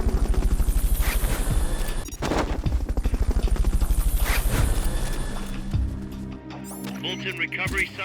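Rapid rhythmic thudding of helicopter rotors in the video game Metal Gear Solid Peace Walker pounds loudly throughout, with voices and game effects layered over it, the beat easing off toward the end.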